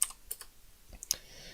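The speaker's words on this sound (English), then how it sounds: "you hear me typing because it's a clicky keyboard" Clicky computer keyboard being typed on, a handful of sharp, crisp keystrokes in an uneven burst, close and fairly loud against a quiet room with no talking.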